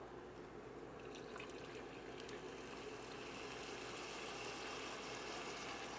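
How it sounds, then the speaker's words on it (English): Water runs steadily into a pot of parboiled rice for jeera rice, a continuous close gushing and trickling sound with no pauses. "Ready to add this water now?"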